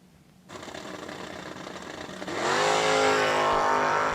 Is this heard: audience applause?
no